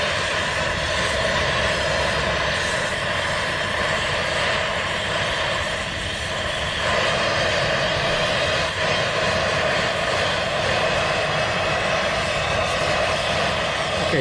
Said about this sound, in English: That's how you set a torch.